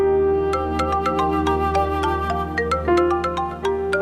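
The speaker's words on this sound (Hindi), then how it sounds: "किसका फोन आ रहा है?" A phone rings with a repeating melodic ringtone in an indoor domestic scene, steady and fairly loud over a sustained musical background, with no talk.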